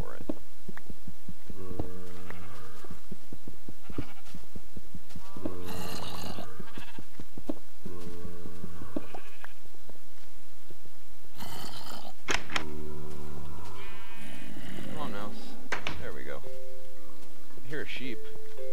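Minecraft sheep bleat repeatedly inside a cave area of the game, several wavering baas spaced across the stretch, mixed with talking and other game sounds.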